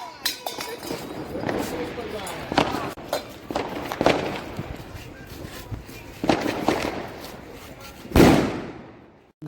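Firecrackers burst at a home Diwali celebration after a puja, a string of sharp cracks and pops scattered through the clip, with one loud close blast near the end.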